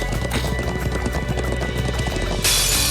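Rapid hoofbeats of a galloping horse in the video game Trails of Cold Steel 2 pound steadily, close and loud, ending in a burst of bright noise.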